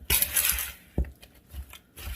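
Nutty dried fruit cake batter being mixed in a bowl, a few soft knocks and scrapes of the utensil against the bowl in an uneven rhythm, close and fairly quiet.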